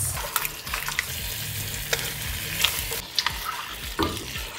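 Rice cakes drop into simmering tteokbokki sauce in a pan, a close bubbling sizzle with scattered stirring clatters and soft plops, no voices.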